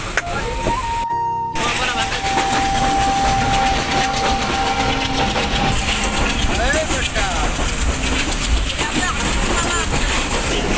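A crowded passenger train runs with a loud, constant rumble and rattle of carriages, a long tonal squeal rising over the roar before it fades into the steady clatter.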